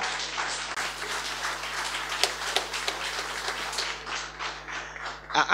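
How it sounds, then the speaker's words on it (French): Applause for award winners at a formal ceremony, many hands clapping in a sustained, moderately distant wash with a few sharper claps standing out, fading somewhat near the end over a low background hum. "On va applaudir encore très fort, s'il vous plaît, les lauréats."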